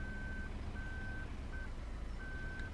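A truck in Farming Simulator 2017 backs up, its reversing alarm beeping in long, evenly spaced tones over a low, steady engine rumble.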